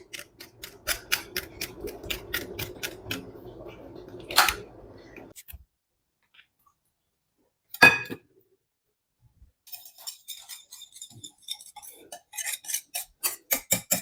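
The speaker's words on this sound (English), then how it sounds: "The color has changed, so I need to whisk it to the down." A homemade hair shampoo mixture is whisked in a bowl with quick, close, clicking strokes, stopping for a few seconds of near silence before resuming in rapid taps.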